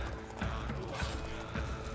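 Horses gallop and neigh amid a battle in the Viking-era video game Odin's Chosen, hooves thudding in a steady run under a dense clamor, with some voices faintly mixed in.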